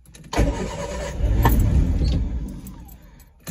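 Triumph Spitfire engine cranking after an electronic ignition conversion, a close starter whir kicking in abruptly and churning for about two seconds without catching, then dying away, with a brief click at the end.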